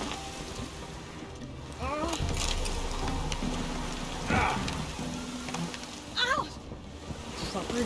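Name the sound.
heavy rain downpour in video game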